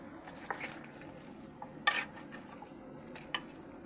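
A ginger-garlic paste being stirred through a pan of mushroom vegetable curry, with soft scraping and sizzling and a few sharp clinks of a spatula against the pan, the loudest near the middle.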